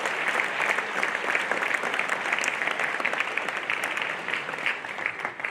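Sustained applause from a school audience at an interschool athletics prize-giving, a dense, even wash of many hands clapping throughout.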